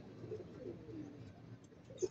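Soft, low pigeon cooing with a brief louder coo near the end, faint and close against quiet background noise.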